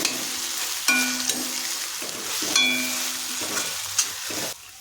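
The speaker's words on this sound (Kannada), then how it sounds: "ಈಗ ಮೂರು ಗುಂಟೂರು ಮೆಣಸಿನ್ಕಾಯನ್ನು ಸೇರಿಸಿ ಮತ್ತೊಮ್ಮೆ ಎಲ್ಲ ಮಿಕ್ಸ್ ಮಾಡ್ತಾ ಇದ್ದೀನಿ" Tomatoes and three Guntur chillies are stirred in a pan for a methi garlic curry, giving a steady sizzle with several spoon scrapes and clatters against the pan.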